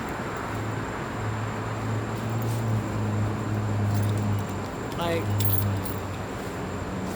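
A Tesla car key fob jangles in a brief metallic clink near the end, heard close over a steady low car-cabin hum with muffled background sound.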